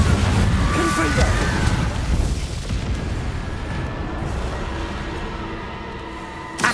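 Explosive spell blasts from Hogwarts Legacy on PS5 rumble as a dense, continuous barrage of booms and bursts, loud and busy throughout with a sharp pop near the end.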